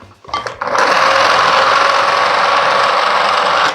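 A blender briefly whizzes a sticky vegan muesli bar mixture, starting after a few clicks and running as one loud, steady whir for about three seconds before cutting off.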